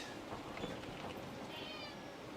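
A house cat meows indoors, a close, clear call with faint room noise around it and no one speaking.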